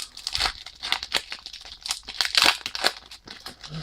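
A Pokémon Giratina booster pack being torn open by hand, with repeated close, crisp crinkling and ripping bursts of foil wrapper and no talking.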